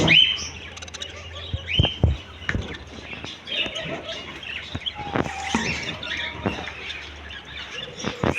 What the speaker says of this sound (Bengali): এদিকে আছে ককাটিল পাখি ঝর্ণা ককাটিল আর গেরে ককাটিল এদিকে আছে গেরে ককাটেল এদিকে আছে জাপানিজ বাজরিকা পাখি